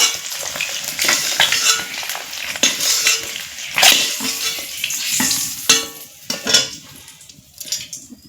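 Metal utensil scraping and clinking in a pan as eggs fried until reddish are stirred and lifted out, with clattering strokes and a soft sizzle underneath, close and fairly loud throughout.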